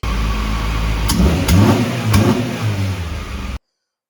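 Honda CRX SiR right-hand-drive car engine running steadily at close range, with three quick sharp revs blipping the throttle before the sound cuts off abruptly.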